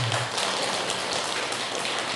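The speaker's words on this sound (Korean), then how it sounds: "박수 한번 칩시다." Audience applause at a religious prayer ceremony, a dense steady wash of clapping that stays even and fairly loud throughout, with no voices over it.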